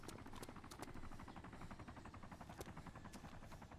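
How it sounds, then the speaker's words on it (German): A player-flown helicopter in the video game DayZ Origins passes low overhead, its rotor beating in a fast, even chop over a loud engine drone that holds steady throughout. "Das ist ein Spieler-Heli."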